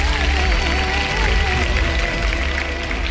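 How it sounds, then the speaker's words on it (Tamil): Loud, continuous applause and some cheering from a studio audience for the singer Mariyamma on a televised Tamil junior singing contest, with tonal music or voices running underneath the dense clapping. "மாரியம்மா அவர்களுக்காக மீண்டும் ஒரு பெரிய கைத்தட்டல்"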